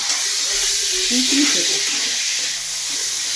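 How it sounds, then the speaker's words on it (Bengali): Ginger paste hits hot oil and sizzles in a pan, a steady loud hiss with brief stirring sounds, some voices faintly underneath. "এবার দিয়ে দেওয়া হলো আদা বাটা।"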